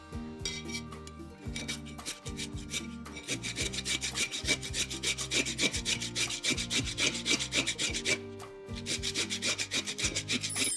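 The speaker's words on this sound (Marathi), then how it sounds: "हे टोक काढलं की त्याच काकडीला असं घासून घ्यायचं, घर्षण करायचं." A freshly cut end of cucumber is rubbed back and forth against the cucumber in a kitchen, giving steady, rhythmic scraping strokes up close that are continuous and fairly loud, with no talking.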